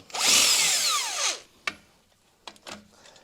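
An impact wrench whirs in one loud burst as it spins a 9/16 lug nut off a trailer wheel hub, followed by a few clinks and rattles of loose metal parts.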